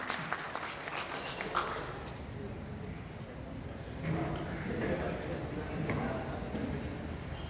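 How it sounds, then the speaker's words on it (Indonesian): Audience clapping at a leadership seminar session fills the room, dense and fairly faint, with a voice speaking over it. "tepuk tangan buat kita semua"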